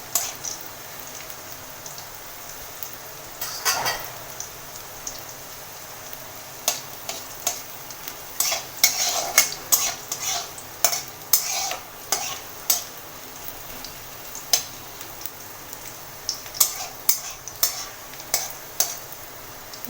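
Garlic browning in a pan sizzles faintly while a utensil stirs it, with scattered sharp scrapes and clinks against the pan, some coming in quick clusters, close and fairly quiet.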